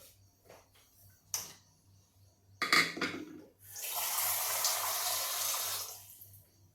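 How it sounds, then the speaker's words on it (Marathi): Water poured into a cooking pot of Marathi tamarind-jaggery amti, a steady splashing stream lasting a few seconds after some light clinks and taps, close and fairly quiet. "आता आपण अजून थोडं पाणी यामध्ये वाढवणार आहोत"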